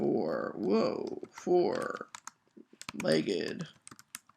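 Computer keyboard keys click under a person talking, with a short run of light, quick taps toward the end.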